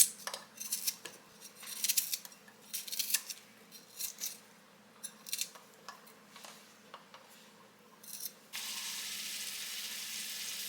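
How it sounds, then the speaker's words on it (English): Onion hits olive oil in a pan with scattered crackles and pops, settling into a steady close sizzle near the end. "To that oil, I'm going to add a little bit of onion."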